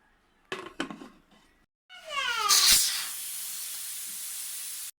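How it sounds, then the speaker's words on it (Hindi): A pressure cooker used for cooking beef haleem releases its steam in a loud, sustained hiss that starts abruptly after a few brief clatters and continues steadily to the end. "हमारे कुकर की सारी हवा निकल गई है"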